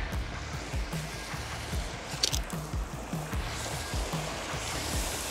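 Water drips and splashes steadily as a koi pond aeration line is lifted off the pond bottom, with soft, close dripping over a low outdoor background.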